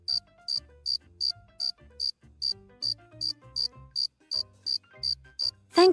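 A cricket chirps in a steady, evenly spaced series of about fifteen bright, high calls over a soft low tune, part of a children's picture-book read-aloud about a clumsy click beetle.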